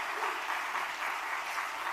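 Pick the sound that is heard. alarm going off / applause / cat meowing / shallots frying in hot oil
applause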